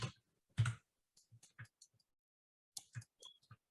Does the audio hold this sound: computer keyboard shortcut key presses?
yes